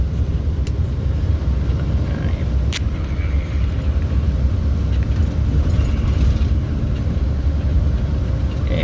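Car driving along a road past a soccer field, a steady loud interior rumble of engine and tyres with road noise throughout and a brief sharp tick partway through.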